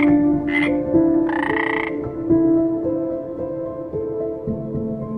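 A frog croaks over and over, close and clear, in a rhythmic series of throaty, tonal calls. Brief higher-pitched chirps break in here and there, and no one speaks.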